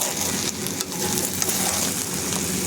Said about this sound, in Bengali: চাউলটা ভালো করে কষিয়ে নিচ্ছি মাংসের সাথে